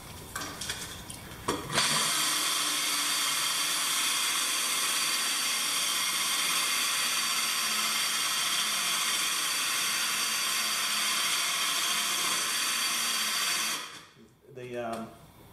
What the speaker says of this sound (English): And then you start drilling.